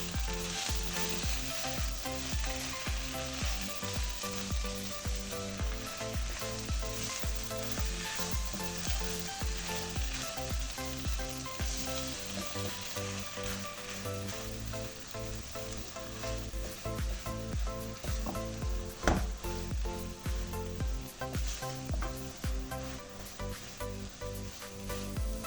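Chicken patty filling with cheddar cheese sizzles steadily in a hot pan while being mixed, a dense, continuous frying crackle with occasional stirring scrapes, close and unbroken throughout.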